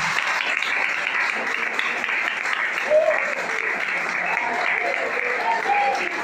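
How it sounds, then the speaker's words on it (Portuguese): A church congregation claps at an evening service, a dense, steady burst of applause from many hands that keeps going throughout, with a few voices calling out faintly underneath. "dá a melhor salva de palmas para a palavra"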